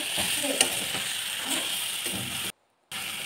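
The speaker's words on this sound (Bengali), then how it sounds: "শুটকি মাছগুলি দিয়ে হালকা কষিয়ে নেব।" Dried fish sautés in a pan with a steady, close sizzle and scraping stir strokes, broken by a short moment of silence before the frying resumes.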